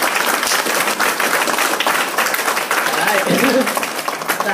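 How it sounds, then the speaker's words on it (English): An audience at a university event gives loud, sustained applause for Andrew Judd, a dense wash of clapping throughout with a voice speaking over it. "Give him another round of applause."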